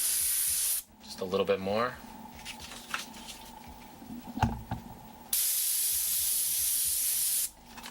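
An airbrush spraying paint in loud, steady hissing bursts at close range, one long blast at the start and another toward the end, with a person speaking briefly in the quieter middle stretch.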